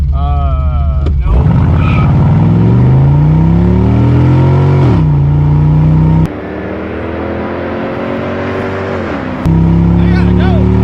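A 1962 Ford F100 truck accelerating hard in a 0 to 60 run, loud and close, its engine note climbing through several gear changes with rising revs, voices heard over it.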